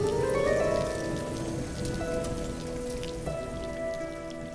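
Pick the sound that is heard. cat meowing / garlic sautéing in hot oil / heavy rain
heavy rain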